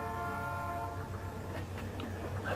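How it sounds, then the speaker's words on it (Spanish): A train approaching on railway tracks sounds its horn in long, sustained tones that ring out over a steady rumble, carrying from a distance on a cold night. "escuchamos aquel eco ensordecedor de un ferrocarril acercándose"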